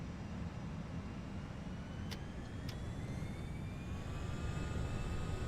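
The jet engines of an FSLabs A320 in Prepar3D spool toward takeoff thrust with a steady, dense roar. Rising whining tones run through it, and two brief clicks sound partway through.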